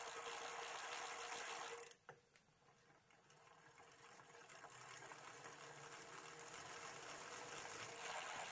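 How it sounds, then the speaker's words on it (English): Freshly assembled Coswheel T20 off-road commuter e-bike wheels spinning freely, a steady soft mechanical whirr and ticking freewheel, with a brief clunk partway through, quiet and close. "gave the wheels a spin to make sure everything is working fine."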